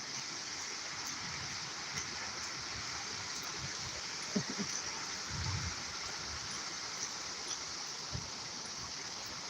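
A constant rush of the Rio Grande river in Jamaica fills the scene, a dense roaring hiss running nearby, with a few faint knocks underneath.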